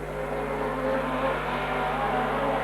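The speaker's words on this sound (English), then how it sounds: "Mini sprint car racing, doing exceptionally good" Mini sprint cars racing around a circuit at Wangaratta, a steady droning chorus of engines at moderate distance with a continuous buzzing whine and no pauses.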